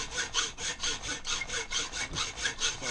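A hacksaw rasps back and forth through metal in a steady rhythm, about a dozen strokes, close and fairly loud with no talking.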